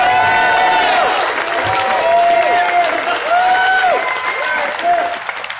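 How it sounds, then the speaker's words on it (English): An outdoor rally crowd claps loudly and continuously, with scattered cheers and voices rising over the steady applause. "Big round of applause to Nathan, guys"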